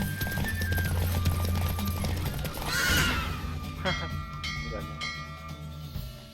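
A horse in the video game The Witcher 3: Wild Hunt gives a loud whinny midway, with steady hooves and dense game ambience running throughout and a voice briefly in the mix.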